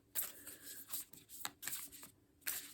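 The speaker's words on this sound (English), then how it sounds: "I need to shuffle these, hang on." Tarot cards being shuffled up close, several quiet riffling bursts in an uneven rhythm with brief pauses between them.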